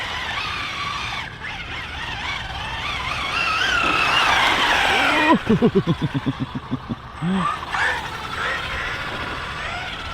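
A Maverick Quantum R Flux RC car on 3S power whines at high revs, then skids and spins out on a turn, producing a rapid series of pulsing, chattering bursts, near and moderately loud.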